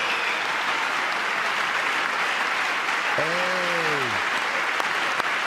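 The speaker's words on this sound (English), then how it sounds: "if you can't stand up and clap for that" An audience applauds steadily at moderate distance, a continuous crowd of claps with a brief tonal whoop or cheer rising and falling midway through.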